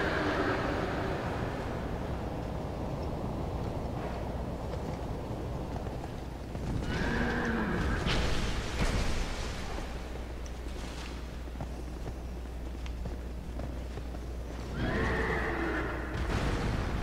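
A horse in Dark Souls 2 neighs and whinnies several times over a steady low rumble, with hoofbeats clopping in between, no voices present.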